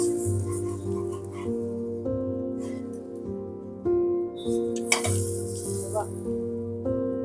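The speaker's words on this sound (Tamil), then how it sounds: "முட்டைய இதுல போட்டுக்கோ. போட்டு நல்லா கிளறி விடு." Three eggs frying and being stirred in a pan while cooking mutton biryani, a steady close sizzle with occasional scraping strokes over a low, constant hum.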